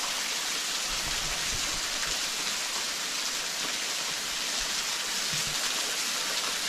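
Rushing water of a woodland waterfall spilling over a rock edge at Frankfurt Mineral Springs, near an old resort ruin, a steady dense broadband roar holding at constant loudness throughout with no voices.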